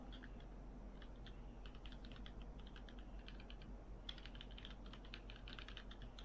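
Rapid, irregular typing on a computer keyboard, with bursts of key clicks running steadily throughout over a constant low background hum, clear and fairly close, with no talking.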